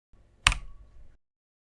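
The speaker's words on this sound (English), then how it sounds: "just press Escape key on your keyboard" One crisp click of the Escape key on a computer keyboard, close and isolated against near silence, with a faint brief electronic tone after it.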